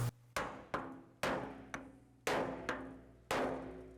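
A narrow-faced hammer taps down the flange of a damaged Austin-Healey 3000 shroud. Six sharp metallic knocks come at uneven intervals, fairly quiet and close, each with a short ringing tail.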